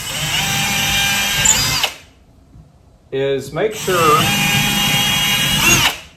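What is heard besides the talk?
power drill drilling holes in wall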